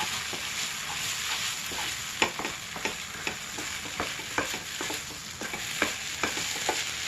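Stirring of a flattened-rice and jaggery sweet cooking in ghee in a pan, with cardamom powder added, as a steady scraping and soft sizzle with repeated sharp spoon clicks against the pan, alone and close.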